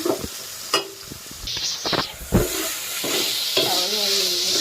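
Bitter gourd with salt stirred in a frying pan for palya, loud close sizzling hiss punctuated by repeated spatula scrapes and knocks against the pan, no speech.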